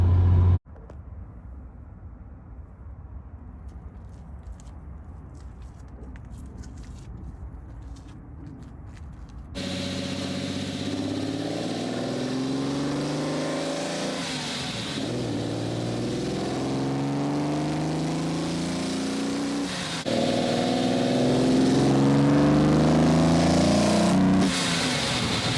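A BMW E30 Touring with a swapped S38 engine drives along, its engine droning steadily with a rougher interior stretch giving way to louder, rising revs and gear changes, with no talk.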